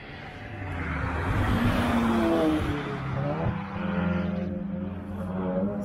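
A race car, the 240 Cup of the Adrenalin Team, drives past during an NLS test session at the Nürburgring, its engine swelling to a peak and then easing off into a second, fainter pass.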